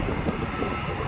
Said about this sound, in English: Southwest 737 just touched down.